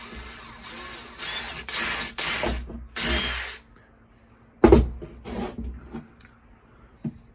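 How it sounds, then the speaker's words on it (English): A power drill whirs in several short bursts up close, boring a hole in the tip of a piece used for tying knots, then stops, leaving a few clicks and light handling noises. "First thing we're going to do is just drill a hole at the tip of it"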